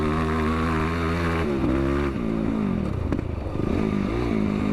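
A tuned motorcycle engine idles loud and close, its steady drone broken by several quick throttle blips that push the revs up and let them fall back, with some mechanical clatter.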